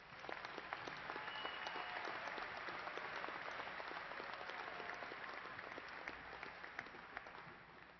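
An audience at a fall university commencement ceremony at Angelo State University gives graduates a continuous round of applause, a dense wash of many hands clapping that holds steady throughout with scattered sharper claps standing out.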